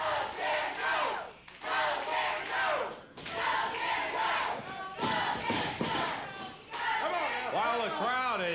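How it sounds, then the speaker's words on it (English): A wrestling crowd at a 1996 USWA TV event chants in loud, rhythmic bursts, repeating the same short phrase again and again with brief dips between rounds, so the shouts run together into one big roar. "Go, Jerry, go, says the crowd."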